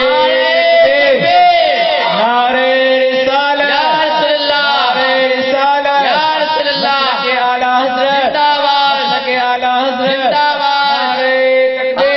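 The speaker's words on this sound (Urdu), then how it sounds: "نعرے" Crowd at an Eid Milad-un-Nabi religious gathering chanting slogans in unison, loud, dense and sustained throughout, with raised voices swelling in rhythmic waves.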